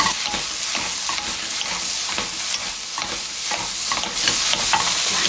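King oyster mushrooms stir-fry with garlic and scallion in a hot pan, giving a steady loud sizzle broken by regular scraping stir strokes throughout, with no talking.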